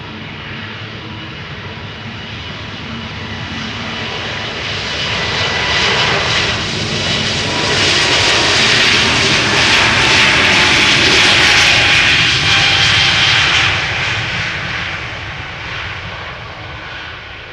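A Vueling Airbus A321neo, a year-old jet bound for Barcelona, departs Amsterdam Schiphol; its engine roar swells steadily from a distance to a loud, close peak, then slowly fades as it climbs away.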